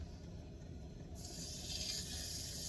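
Water runs steadily into a cup, a soft hissing pour that begins partway through and continues, quiet and close, without talking.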